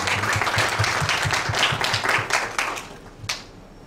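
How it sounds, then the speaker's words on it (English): Applause from an audience at an academic talk on receiving justice in one's own language, a steady burst of clapping lasting a few seconds before thinning out, with one last louder clap near the end. "a round of applause"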